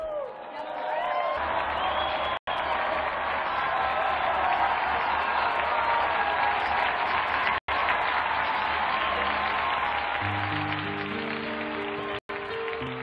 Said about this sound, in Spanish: Ofrezcamos nuestro devoto aplauso a San Quod-Vuldeus.